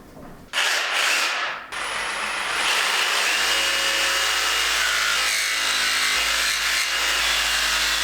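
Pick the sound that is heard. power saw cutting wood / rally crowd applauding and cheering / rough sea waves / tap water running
power saw cutting wood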